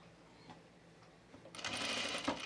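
A sewing machine sews down a pleat in fabric: quiet handling sounds first, then the motor starts and runs in a bright, steady close whir for about a second, with no voices.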